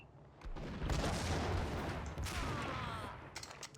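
Gunfire and explosions in the video game Max Payne, dense and loud, with sustained layered shots and booms filling the whole stretch.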